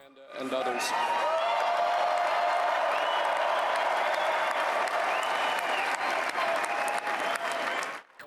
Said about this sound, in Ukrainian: Кожен його крок супроводжують оплесками.